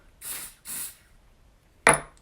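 Younique spray foundation sprayed in two short hissing bursts close by, followed by a brief sharp click or pump sound.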